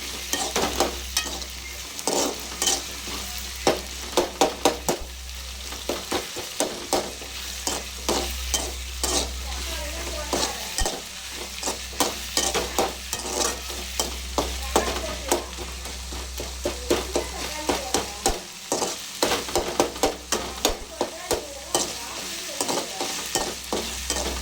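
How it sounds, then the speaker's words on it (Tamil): Tomatoes and chillies fry in a pan, a steady loud sizzle broken by frequent scraping and clatter of stirring throughout, with no talking. "தக்காளி மிளகா நல்லா சுண்டுற அளவு பண்ணிடுங்க."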